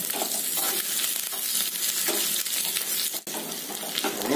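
Cumin, dried chillies, curry leaves and crushed garlic crackle in hot oil for a sambar tempering, a steady, loud, close hiss of sizzling with a brief dip partway through.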